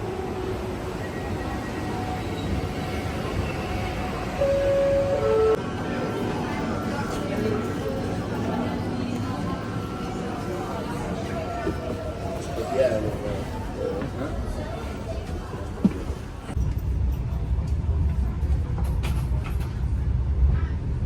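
Steady rumble of a metro train in motion in Milan, Italy, with a crowd murmuring in the background and a few brief tones and clanks; the rumble grows louder near the end.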